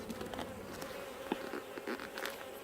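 Many honey bees buzzing together in a dense, continuous drone during a hive inspection, close and fairly quiet, with occasional faint taps and knocks.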